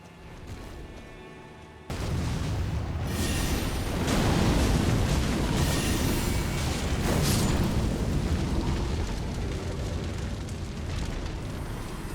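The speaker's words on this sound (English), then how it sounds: "I guess that's why I brought a fire spell." Fire spell cast in Elden Ring against creepy hand enemies: a loud, sustained roaring whoosh of flame that bursts in suddenly and keeps rumbling and crackling for about ten seconds, swelling in intensity midway.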